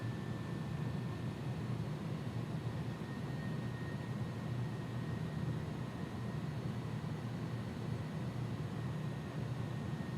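Airbus A300 jet rolling for takeoff in the X-Plane 11 simulator, a steady broadband engine roar with a thin whine, constant and unbroken throughout.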